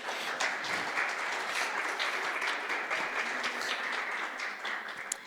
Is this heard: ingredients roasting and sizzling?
no